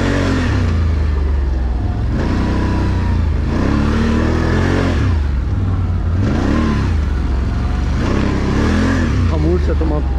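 A Can-Am 1000 engine revs repeatedly in rising and falling surges over a steady low drone, sounding close and loud, with someone talking over it.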